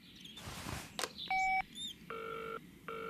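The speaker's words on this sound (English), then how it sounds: "Well, I'd better phone Bob." A telephone is dialed in a 2002 Bob the Builder cartoon: a quick series of distinct keypad tones and beeps, each held briefly, with short gaps and a faint rustle before them.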